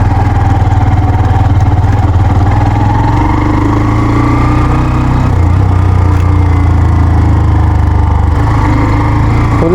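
A Hero Xtreme 125R motorcycle engine runs close and loud, a steady low chugging hum with slight shifts in pitch as the throttle varies.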